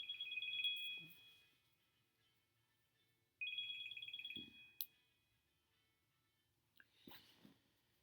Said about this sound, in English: sorry about the phone call there